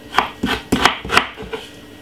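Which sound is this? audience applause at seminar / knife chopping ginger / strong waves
knife chopping ginger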